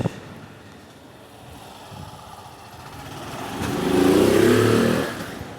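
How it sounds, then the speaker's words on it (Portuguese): A motorcycle ridden along a city sidewalk approaches and passes close by, its engine swelling from a distant hum to a loud, rough roar before fading again amid street noise. "o cara andando de moto na calçada, né? Quase passa por cima de mim"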